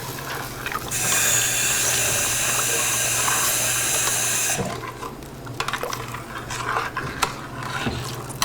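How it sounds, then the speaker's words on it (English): Water pours from a tap into a cooking pot of lentils, a loud steady rushing stream for several seconds, followed by quieter stirring and clinking in the pot. "I'm going to throw just maybe 1 more cup of water in there."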